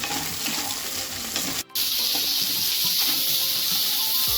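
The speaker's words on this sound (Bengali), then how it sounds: "দেখছেন আমাদের পেঁয়াজ ভাজা চলছে" Onions and garlic frying in a pan for prawn bharta, a continuous crackling sizzle with a brief interruption partway through, then the hiss resumes steadily.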